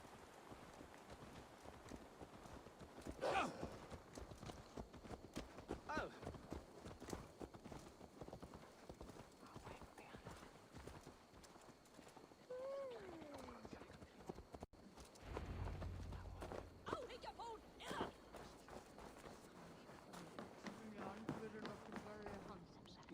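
Horse hooves clip-clop steadily in Assassin's Creed Valhalla at the Ravensthorpe settlement, with game music and characters talking over the rhythmic, moderately near footfalls.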